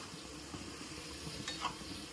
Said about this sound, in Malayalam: ആ പഞ്ചസാര ഒഴുകുന്ന വരെ നമുക്ക് ഇളക്കി കൊടുക്കണം.